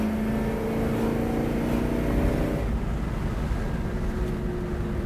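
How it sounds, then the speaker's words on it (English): 1969 Chevelle SS 396 big-block V8 running, a deep steady engine rumble with a low throbbing tone that eases slightly partway through, continuous and fairly loud with no talk. "Big block V8."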